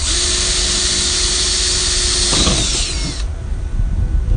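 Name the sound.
power tool installing rivets in Airstream subfloor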